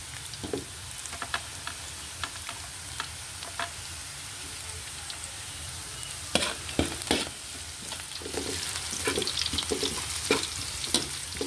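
Garlic, onion and ginger sauté in a hot pan, a steady sizzle broken by scattered utensil scrapes and stirring clicks that pick up in the second half.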